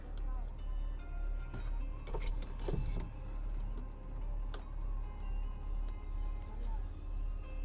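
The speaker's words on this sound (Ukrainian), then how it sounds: "Склопідйомники працюють, електродзеркала працюють." A Ford Fusion's electric power windows run with a soft motor whir over a low, steady cabin hum, joined by faint ticking clicks.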